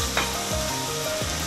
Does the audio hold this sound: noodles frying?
yes